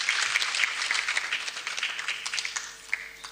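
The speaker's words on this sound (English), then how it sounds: "Another hand clap for Aisha." Audience applause for Aisha at a State House ceremony in Uganda honouring outstanding teachers, with a burst of hand clapping that is fairly faint and slowly thins out over a few seconds.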